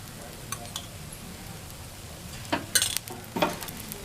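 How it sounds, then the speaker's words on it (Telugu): A kheema dosa fries on a hot pan, with a soft steady sizzle beneath a few sharp scraping and clinking spatula sounds near the end. "దోశని గోల్డెన్ బ్రౌన్ కలర్ వచ్చే వరకు కాలనివ్వాలి."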